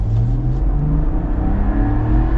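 Ineos Grenadier SUV engine revving hard under full acceleration, a loud, steady, close-up drone with a deep rumble and rising mechanical whir, no talking.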